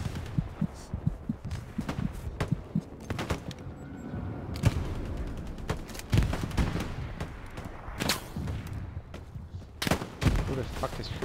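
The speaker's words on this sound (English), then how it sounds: "Who the fuck is shooting at me?" Gunfire in a World War II shooter video game, rapid bursts and single shots with distant booms, dense and continuous, with a player's voice talking over it.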